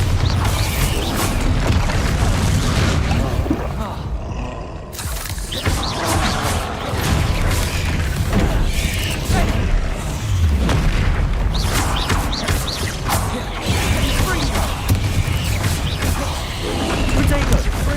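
Bombarda spell explosions from the game Hogwarts Legacy boom and crash repeatedly, loud and dense, with brief lulls between blasts and a voice speaking over the action.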